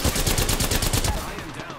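Rapid automatic gunfire rattles in a shooter game, a fast regular string of close, loud shots that tapers off toward the end.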